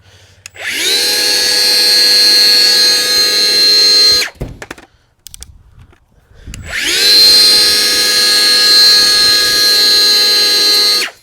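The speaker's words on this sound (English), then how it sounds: "just take your planer down to very low, and obviously you need a planer to do any of this" Power planer trimming the edge of crown molding, running in two sustained loud bursts of about three and four seconds each with a steady high whine, separated by a brief quiet gap with small handling noises.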